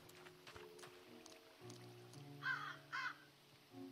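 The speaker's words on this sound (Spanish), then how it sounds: "Era el cuervo." A crow caws twice in a video game, two short, harsh calls close together, heard over soft background ambience and low hum.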